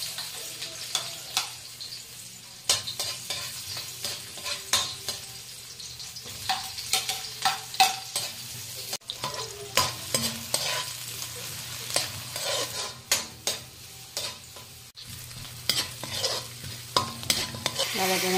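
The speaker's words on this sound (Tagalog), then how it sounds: "Gisa na natin yung ating bawang sibuyas." Garlic and onion sautéing in a pan for a Filipino chicken sapsoy, with steady sizzling broken by frequent clanking stirs of a utensil against the pan, close and busy throughout.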